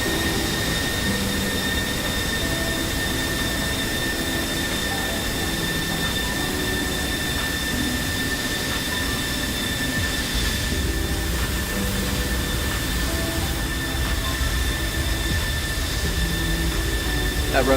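A steady jet engine drone with whining tones from an aircraft in a video game coming in to land on a short runway, continuous and unvarying throughout with no one speaking.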